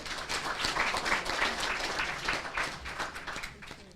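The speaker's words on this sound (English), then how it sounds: "Give yourselves a round of applause." At a black tie business gala, the audience breaks into applause: many hands clapping densely and steadily for a few seconds, fairly loud and close, with no voices over it.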